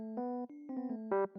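Electric piano preset from the Lounge Lizard plugin, made for a lofi loop, playing a short sequence of sustained chords and notes with clear harmonic tones, moderately loud and alone.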